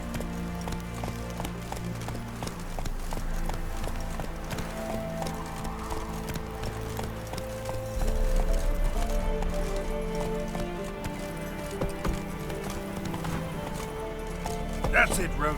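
Roach, a horse in The Witcher 3, gallops with a fast rhythmic clip-clop of hooves under game music, the pace picking up partway through.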